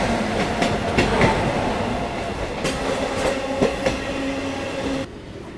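The Ratnachal Express, a superfast passenger train, rumbles steadily along the rails with a continuous loud roar, scattered wheel clatter and clicks, and a faint tonal whine, before the sound drops abruptly near the end.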